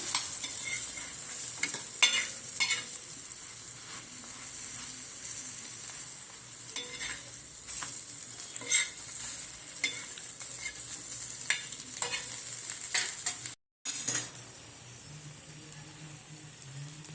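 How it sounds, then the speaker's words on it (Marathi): Paneer vegetable rolls fry in butter with a continuous gentle sizzle, overlaid by frequent scraping and stirring taps of a utensil in the pan, close and moderately quiet, with a short dropout near the end. "अशा प्रकारे बटरमध्ये रोल भाजून घेऊया"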